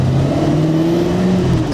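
Engine note from a 1978 Aston Martin V8 Vantage, its V8 holding a steady, loud drone with smoothly rising tones, heard alone throughout.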